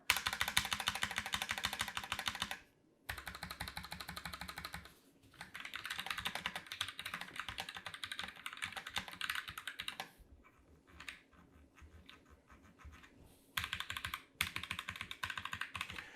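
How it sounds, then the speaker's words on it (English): Rapid typing on a ROCCAT Vulcan TKL keyboard with linear mechanical switches comes in close, dense bursts of keystrokes separated by brief pauses, with a sparser, lighter stretch in the middle. "Now we're going to switch over to the Vulcan TKL with the linear mechanical switches."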